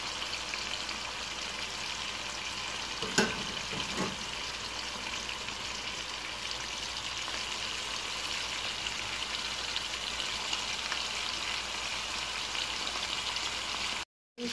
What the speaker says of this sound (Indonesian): Digoreng dulu daging ayamnya.